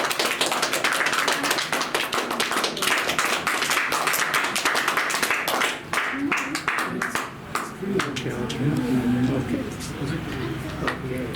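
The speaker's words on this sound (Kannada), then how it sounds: "ಪ್ರೆಸೆಂಟ್ ಚಪ್ಪಾಳೆ ಮುಖಾಂತರ ನೀವು ಪ್ರೋತ್ಸಾಹ ಮಾಡಬೇಕು ಅಂತ ವಿನಂತಿ ಮಾಡ್ಕೊಳ್ತೀನಿ" An audience claps at a short documentary poster launch in Magadi, a dense patter of hands that carries on steadily under loud overlapping talk.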